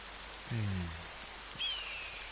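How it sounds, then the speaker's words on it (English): Steady soft rainfall hisses through a quiet outdoor area in Neverwinter Nights, a continuous wash with a couple of brief low tonal game sounds layered over it. "Just the rain falling on my head"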